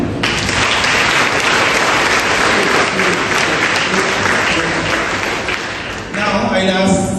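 A school audience applauds teachers at a Rabindranath Tagore tribute event, loud dense clapping filling the room steadily before easing near the end.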